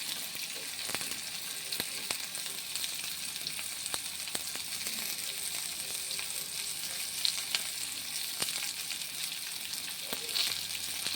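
Onions and chillies frying in hot oil give a steady, dense sizzle throughout, with a few faint utensil taps and no voices.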